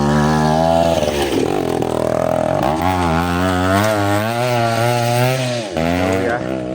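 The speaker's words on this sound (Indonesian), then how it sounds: "Oh, ada yang pakai motor." A motorcycle on a mountain trail on Gunung Tampomas revving loudly nearby, its engine pitch rising, dipping and climbing again as it labors past.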